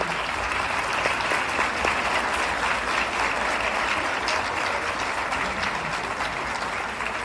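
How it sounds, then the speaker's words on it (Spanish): An audience welcomes a doctor and guest speaker at a talk on critical thinking and sovereignty with hearty applause, a steady, full roomful of clapping that holds evenly for about seven seconds. "Recibámoslo con un fuerte abrazo y aplauso para ti."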